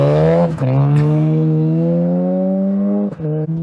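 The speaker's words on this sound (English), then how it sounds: "Even between shifts, you get a little exhaust clap, it sounds like, and then you have a nice turbo hiss as it's starting off too." A Toyota 2-liter four-cylinder turbocharged engine, of the kind planned for a revived Celica and MR2, revs loud and close. Its strong humming drone climbs steadily in pitch, broken by short dips between gear shifts.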